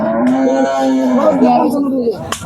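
A single long, loud moo from a cow at the Hazratpur cattle market, close by and rising slightly before trailing off.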